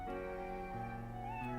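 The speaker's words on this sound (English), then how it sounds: "It's such a cutie cat!" A cartoon cat meows in the Professor Layton vs Phoenix Wright video game, a single drawn-out, clear mew rising and falling over a steady musical backing, close and alone without talk.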